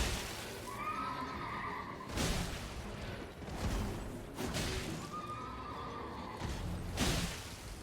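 Horse whinnies sound twice in a game battle in Elden Ring, each shrill neigh followed by heavy whooshing impacts and thuds, with steady background noise throughout.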